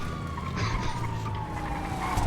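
A police car siren in the GTA 5 video game wails in a slow, steady, falling tone over a busy background of game sounds, with no talk.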